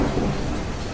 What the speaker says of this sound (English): Storm, storm, storm.